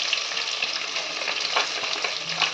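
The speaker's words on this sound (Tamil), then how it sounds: "வெங்காயம் கொஞ்சம் வதங்கட்டும்" Onions sauté with green chillies and curry leaves in a pan for a chicken gravy, a close, steady hiss of frying oil with occasional stirring scrapes, alone without talk.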